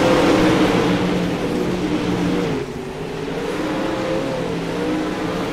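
Race cars roar around a dirt track at Limaland, a loud, continuous engine drone from several nearby cars, dipping briefly midway before steadily climbing again.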